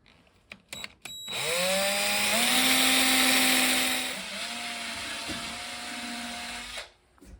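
A power drill bores a hole into an antler button held in a vise. A few clicks come first, then the motor whirs up to a loud, steady whine with a rising pitch, eases partway, then stops.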